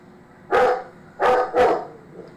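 A pet dog barks three times indoors at a television, one bark and then a quick pair, close and loud with nobody talking.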